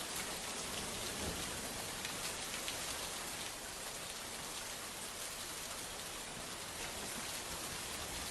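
Heavy monsoon rain pours steadily in Sangameshwar taluka, a dense, unbroken hiss of drops hitting surfaces. It stays even and enveloping throughout, with no voices.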